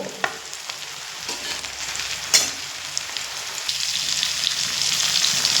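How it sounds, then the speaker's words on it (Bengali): Potatoes fry in a pan with a continuous close sizzle that grows slightly louder, broken by a few sharp clicks and utensil knocks, no talking. "একইভাবে আলুগুলো আমি কিন্তু ভেজে নেব"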